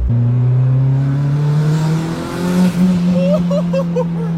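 A turbocharged car engine with a 3-inch exhaust roars close and loud, holding a steady drone before its pitch climbs as the car accelerates hard.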